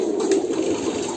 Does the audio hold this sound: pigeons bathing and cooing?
yes